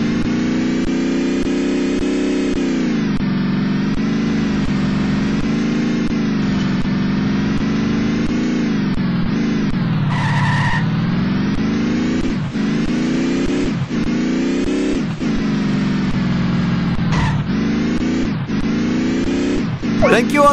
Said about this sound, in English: What are you trying to prove with this crazy driving?